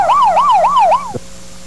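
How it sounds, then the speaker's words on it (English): A loud emergency vehicle siren wails up and down in four quick, even cycles, then cuts off abruptly, leaving a faint steady hum behind. "You hear the siren. I can hear a siren."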